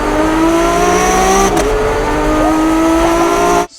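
A Ferrari engine roars loudly and steadily, breaking briefly mid-clip as it downshifts, then the revs climb again before cutting off.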